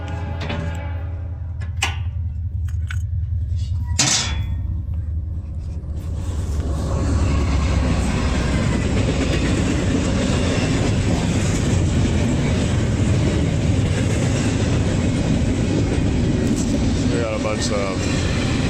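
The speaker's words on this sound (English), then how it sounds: "Here comes a train." A train rolls past close and loud, a sustained roar and clatter that swells after a few seconds and holds steady to the end.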